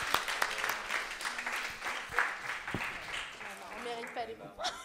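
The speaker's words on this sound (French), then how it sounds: "je pense qu'on peut déjà applaudir parce qu'elles ont été les seules" Scattered applause from a small audience at a Sunday church training session, uneven claps rising and falling beneath ongoing speech at modest volume.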